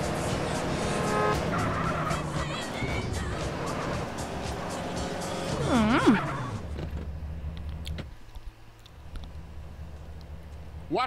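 A car in the video game GTA San Andreas revs and skids loudly for about six seconds, with a tire squeal near the end before the engine drops to a low idle.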